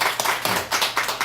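A church congregation claps in a quick rhythmic burst, sharp close hand claps arriving in steady beats for a moment, with no speech over them.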